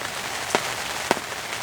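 Pouring rain on a spring day makes a loud, steady hiss throughout, with two distinct drip-like taps standing out close by against the dense wash.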